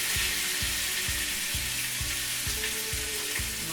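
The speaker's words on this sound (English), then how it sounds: "So now we're going to let this sear for just a few seconds on each side" Lamb sears in hot oil in a pan with a loud, steady sizzle and crackle, while low, regular thumps repeat about every half second underneath.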